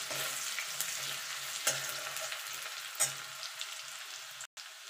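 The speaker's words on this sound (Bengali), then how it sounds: "আদাটা কুচিয়ে রেখেছিলাম সেটা দিয়ে দেবো, দিয়ে একটুখানি নাড়াচাড়া করে নেব" Chopped garlic and ginger sizzle steadily in a hot pan, a close crackling hiss broken by a few scraping knocks of a spoon as they are stirred, with no talk.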